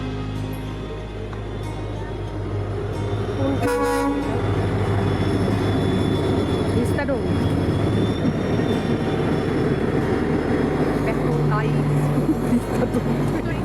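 A train rumbles and clatters past close by, loud and steady, with a short horn blast early on and faint voices in the background.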